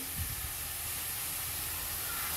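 A burst of steamy sizzling hiss, loud and steady, as water hits a hot pan of frying vegetables, with a faint low thump at the start.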